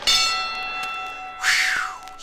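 A bell rings in a cartoon boxing scene at a dog show, a bright metallic strike followed by another clear ring, loud and close against a quiet background.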